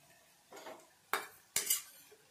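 Ground masala paste goes into a pan of frying onion, with a few sharp metal scrapes and clinks of a spoon against the pan in quick succession, close and fairly clear.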